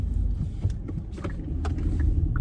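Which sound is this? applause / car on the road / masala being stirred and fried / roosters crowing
car on the road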